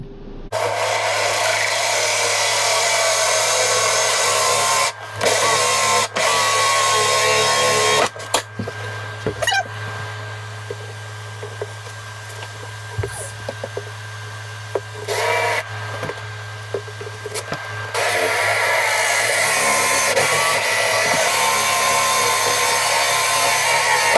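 A power drill bores a hole near a sink, running in long steady whining stretches broken by short stops and clicks, close and fairly loud with no talking.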